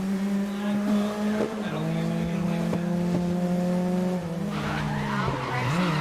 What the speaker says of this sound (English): Oh, that was a great drift